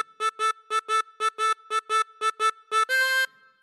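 Harmonica phrase from a theme: a steady run of short, evenly spaced reedy notes in pairs, ending on one longer, brighter held chord, played solo and close.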